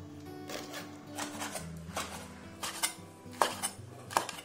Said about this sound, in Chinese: 去鱼洗净的墨鱼我们来把它切成小块